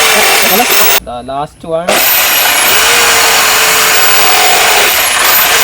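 A power tool cuts notches for wire passage into wooden reaper strips, a loud steady whine running almost the whole time and dipping briefly while a voice speaks.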